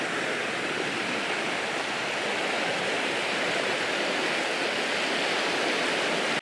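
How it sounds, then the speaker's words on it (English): A fast-flowing river rushes past in a dense, unbroken roar of water, close and steady throughout with no voices. "But we've got extremely fast flowing water."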